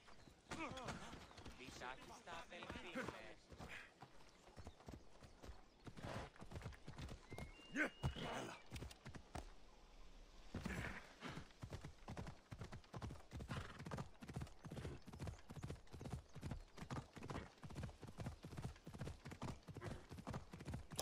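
Hooves clip-clop in a steady, fast galloping rhythm as a horse runs in the video game Assassin's Creed Odyssey, with a brief whinny, while a player talks over it.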